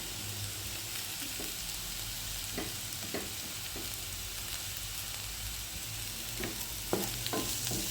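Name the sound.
stirring beetroot and crushed coconut in a frying pan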